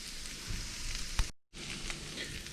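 Diced beef and potato hash (pyttipanna) sizzling steadily in a frying pan, a dense hiss with a brief scrape or clatter and a momentary cut in sound, no talk.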